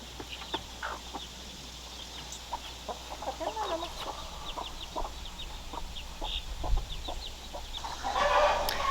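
A mother hen clucks with her chicks on a homestead, giving a steady run of short, repeated clucks and faint high peeps at close range, with soft outdoor ambience behind.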